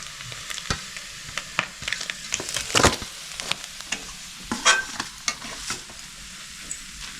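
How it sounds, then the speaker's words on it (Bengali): Dried red chillies and panch phoron spices crackle and sizzle in hot oil left from frying small mourola fish, with light stirring scrapes and scattered pops, close and fairly quiet. "মাছ ভাজার তেলে আমি ফোড়ন দিয়ে নেব।"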